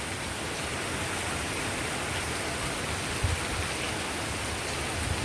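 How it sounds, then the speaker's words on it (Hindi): Heavy rain pours down steadily in Karachi, a dense, loud, unbroken hiss of falling water with no pauses, heard alone without voices. "इतनी तेज़ बारिश हो रही है"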